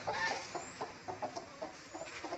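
A free-range desi hen on a village poultry farm clucks softly while pecking at feed, a string of short, evenly spaced clucks close by with no talk over them.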